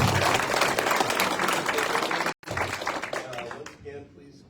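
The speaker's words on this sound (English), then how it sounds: "Once again, please keep the applause till the end if you would." An audience applauds at a candidate debate, dense clapping that briefly cuts out, then resumes and thins away to a few scattered claps at the end.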